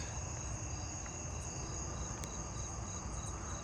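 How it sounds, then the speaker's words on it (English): Fall field cricket chirping steadily in an outdoor night setting, a continuous insect chorus with a faint pulsing chirp rhythm and no talk. "Oh, I'm hearing the fall field cricket."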